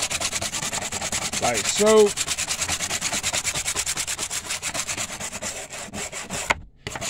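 Brushing trim restorer into faded black plastic bumper trim with a bristle brush: a steady, close scrubbing rasp that carries on throughout, with a short voice partway through and a brief pause near the end.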